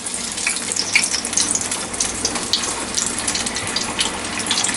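Chicken pieces dropped one after another into hot frying oil, giving a steady, close, crackling sizzle with bright spatter bursts throughout and no voices.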